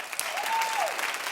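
Dense, steady applause from a television talk-show studio audience fills the whole moment as one continuous wash of clapping, with a brief tonal sound rising above it.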